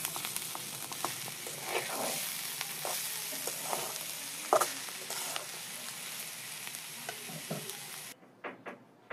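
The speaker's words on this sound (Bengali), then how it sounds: "ধনিয়া পাতা কুচিটা দিয়ে এবার সব ভালো মতো আবার নাড়িয়ে নেব" Fried fish tossed with chopped coriander leaves in a hot pan, a dense continuous sizzle with frequent scraping stirs of a spatula, close up, until the heat cuts off near the end and a few quiet clicks remain.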